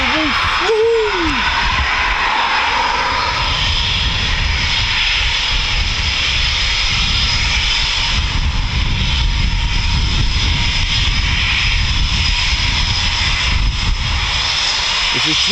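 A Eurofighter Typhoon FGR4 fighter jet takes off with a loud, continuous engine roar that fills the whole span, close by and overwhelming, with a brief excited voice at the start.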